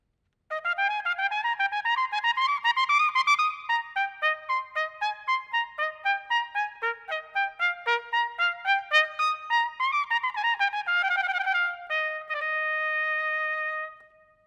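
The highest member of the trumpet family, played by a Chicago Symphony trumpeter, rings out in a bright, clean run of quick articulated notes, ending on a sustained high tone, solo and close.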